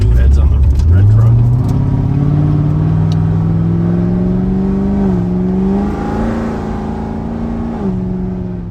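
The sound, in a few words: C7 Corvette Z06 LT4 engine revving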